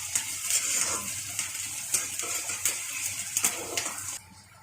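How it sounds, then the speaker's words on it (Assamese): Onions sizzle in hot oil in a pan for a potato bhaji while a spoon stirs them, with busy frying crackle and scraping strokes that cut off abruptly just before the end. "পিঁয়াজখিনি অলপমান ভাজা লাগি যাওক"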